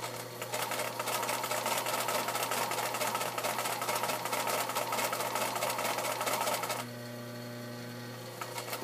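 Sewing machine stitching together hat panels at a steady, slow pace, a continuous close mechanical whir that stops near the end, leaving a quieter hum.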